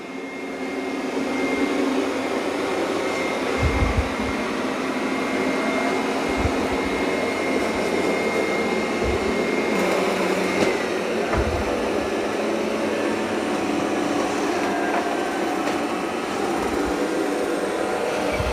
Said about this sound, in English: It increases the suction when it's on carpet and it lifted the mop pads.